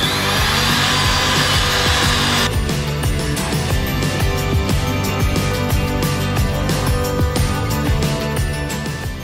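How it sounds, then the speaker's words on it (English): A Dremel-style rotary tool spins a burr against wood while shaping hard-to-reach areas of a carving, giving a steady high whine broken by rapid, uneven grinding as the bit bites in, close and loud throughout. "I'm going to shape this up a little bit with this burr"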